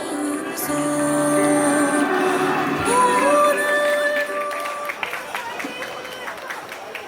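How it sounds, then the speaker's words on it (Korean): A crowd at an outdoor protest rally breaks into loud cheers and whoops with clapping mixed in, the shouting voices prominent for several seconds before easing off. "힘찬 박수 부탁드리겠습니다"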